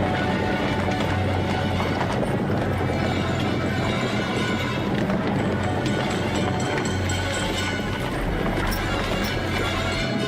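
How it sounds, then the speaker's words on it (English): Many horses of the Australian Light Horse gallop in a dense, continuous drumming of hooves, loud and steady throughout, like a cavalry charge. "Australian light horse advancing on eastern defences"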